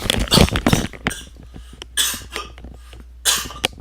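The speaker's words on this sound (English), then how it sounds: "A little bit of a cough hiccup." Several short, close coughs come in bursts with brief quiet gaps between them, no talking.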